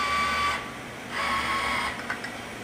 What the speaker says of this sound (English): if you listen closely, you hear this motor